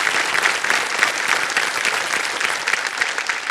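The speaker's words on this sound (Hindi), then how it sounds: "ताली बज जाए उनके लिए।" Studio audience on the KBC game show applauds steadily, a sustained, even wash of many hands clapping with a faint crowd murmur and no clear speech.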